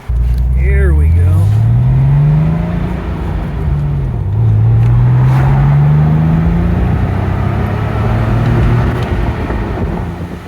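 A 1996 Porsche 911 Cabriolet accelerates hard on a road test, its engine note climbing through the gears in rising sweeps with a brief dip at a shift, loud and close inside the car over steady road rumble.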